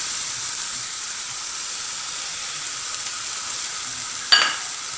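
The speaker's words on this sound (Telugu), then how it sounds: "ఉల్లిపాయ పేస్ట్ మగ్గిపోయింది కాబట్టి టమాటా గుజ్జు వేసుకోవచ్చు." Tomato pulp hitting a hot pan of cooked onion paste, a steady close sizzle with a brief sharper burst of hissing near the end, no voices.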